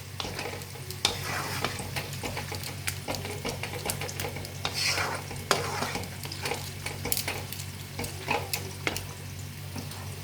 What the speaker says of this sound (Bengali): দিয়ে হালকা হাতে আবার একটু সটে করে নেব।